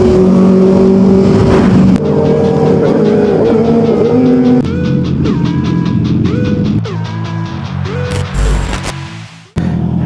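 A Honda CB650R with E-Clutch being ridden, its engine giving a loud, steady drone close up that rises and falls through revs and gear changes, then dips briefly near the end.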